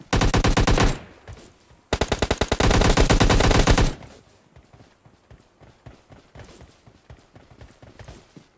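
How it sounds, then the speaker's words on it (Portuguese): Two long bursts of rapid video-game automatic gunfire, loud and close, followed by quieter scattered clicks and taps. "Tô trocando tiro antes de chegar."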